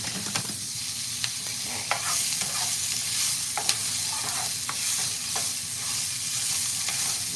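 Smoked sausage sizzles and crackles steadily in a hot pan at breakfast, a close, continuous fry with scattered pops and occasional scrapes of stirring, and no voices.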